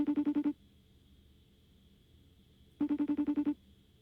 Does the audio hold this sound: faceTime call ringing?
yes